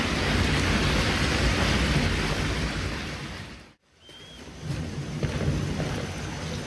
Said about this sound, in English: let's make our way down in the lovely rain as usual